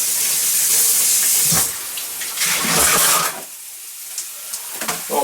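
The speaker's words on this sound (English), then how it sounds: "you take your lettuce and you rinse it" Iceberg lettuce rinsed under a running tap, a steady broad hiss of flowing water for about three and a half seconds, then a sudden drop to a quieter, thinner trickle with small splashes near the end.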